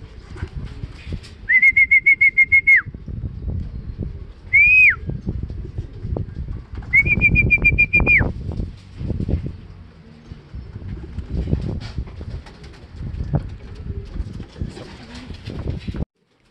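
Racing pigeons arriving at a loft during a derby, with short repeated electronic beeps from the timing clock, light fluttering and background ambience while someone talks quietly.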